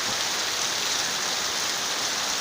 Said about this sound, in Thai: บรรยากาศฝนตก